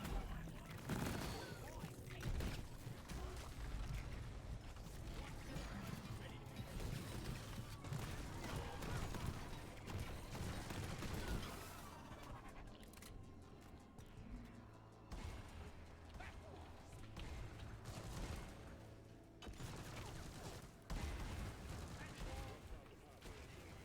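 Deep Rock Galactic co-op game: a deployed turret and weapons fire in dense, continuous rattling bursts over a noisy, chaotic backdrop, with players talking throughout and the gunfire easing briefly midway before resuming.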